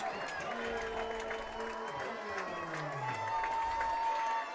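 A homecoming football crowd at a high school game cheers and claps in a continuous distant roar, with a broadcast announcer's voice running over it.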